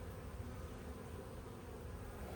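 Bees in a hive built out from a swarm, giving a faint, steady, continuous buzzing hum with no voices.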